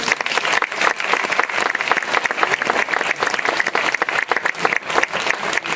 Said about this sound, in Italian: congediamo i nostri amici dal palco con un applauso